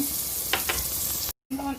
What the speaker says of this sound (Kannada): ಅರ್ಧ ನೀರುಳ್ಳಿ ಒಗ್ಗರಣೆ ಪಾಡೊಂಡೆ ನಾನು